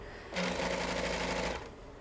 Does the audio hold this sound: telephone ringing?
no